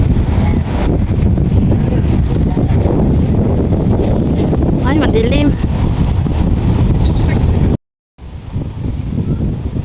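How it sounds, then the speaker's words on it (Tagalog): Strong wind roars and buffets the microphone almost nonstop at the elevated OCBC Skyway in Singapore, with a brief cut-out, while a person speaks under the gusts. "Lakas ng hangin."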